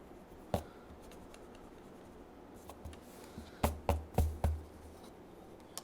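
A pencil scratches across paper while drawing the dotted lines of an orthographic projection, with faint soft strokes early on, then a quick run of four or five sharper, louder strokes near the end in a quiet room.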